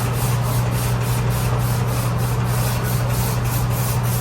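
Rhythmic back-and-forth sanding on a fiberglass 1932 coupe body, working a ridge on the inside panel: steady close scratchy strokes at about two per second with a constant low hum underneath.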